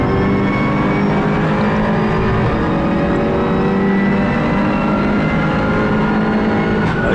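Touring race cars, including a Ford Fiesta Mk6 EcoBoost and a Volkswagen Golf, race at Donington with a steady, loud, continuous engine roar and no clear pauses.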